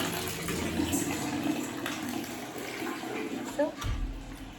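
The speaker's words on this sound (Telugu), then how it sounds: "The bucket is being field. Bucket నిండుతూ ఉంది." Water runs from a faucet with hot and cold taps into a filling bucket, a steady, faint gushing hiss that continues without a break and carries a slight splashing texture.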